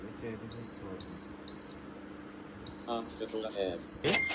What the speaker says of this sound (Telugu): వెంటనే ఇన్స్టెంట్ అలర్ట్ అనేది బజర్ మనకి ఇస్తుంది